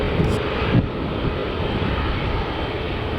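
Airbus A350 jet engines roar steadily at Manchester Airport, a loud, dense and even drone with a brief bump near the start and no talking.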